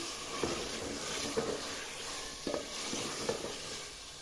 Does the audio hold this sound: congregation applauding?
no